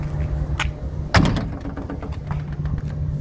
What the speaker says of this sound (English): when you shut your other door, which I'll demonstrate.